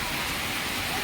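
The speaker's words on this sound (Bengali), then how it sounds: "প্রচণ্ড বৃষ্টি হচ্ছে" A heavy monsoon downpour falls on a rural Bengal village, heard as a loud, unbroken wash of rain noise across the whole brief moment.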